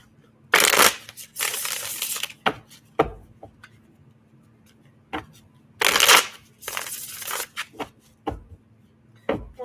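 A deck of tarot cards is shuffled in several loud, close bursts of riffling and sliding, separated by short pauses and soft taps as the cards are squared, over a faint steady hum.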